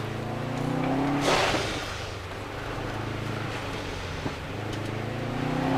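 A 2011 Subaru Forester S MRT is driven hard through a slalom on a race track, its engine droning steadily with shifting pitch under wind and road noise.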